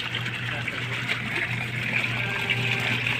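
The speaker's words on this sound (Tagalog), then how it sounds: "Lagyan natin ng konting tubig, guys." Water trickles and pours steadily into a laundry basin with soapy suds, a continuous close splashing stream over a low hum, while a person talks over it.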